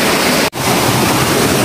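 A river at El Dique in Chalatenango, with cold mountain water, rushes in a loud, steady broadband roar close to the microphone, broken only by a brief dropout.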